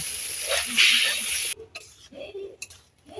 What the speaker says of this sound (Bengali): এবার আলু দিয়েও কিছুক্ষণ আমি কষিয়ে নেব।